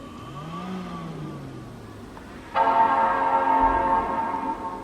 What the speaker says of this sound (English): Love that retro, beautiful Apple chime.